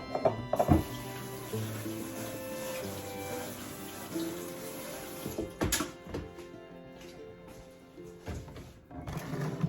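Food being drained and rinsed under a running kitchen tap, a steady close stream of water with occasional clunks and knocks of handling, without talking.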